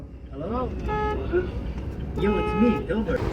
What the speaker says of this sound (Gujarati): હોરન મારતો આમ. મારતો હોરન.